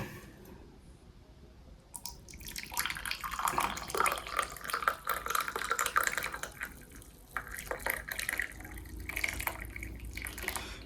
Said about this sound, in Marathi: बघा आता आपण हे काढा शोधून घेऊया.